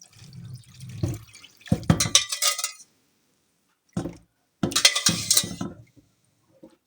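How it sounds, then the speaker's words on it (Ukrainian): Cooled marinade poured from a container over pieces of mackerel for pickling: several short bursts of splashing, trickling liquid with small clinks against the dish, separated by brief pauses, close and fairly loud. "Охолов наш маринад і охолодженим маринадом заливаємо нашу"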